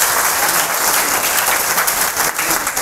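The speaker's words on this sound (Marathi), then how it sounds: "त्यांच्यासाठी पण एक थोडा जोरदार टाळ्या" Loud, sustained applause from an audience at a college job fair, dense clapping filling the whole stretch at steady intensity with no talk.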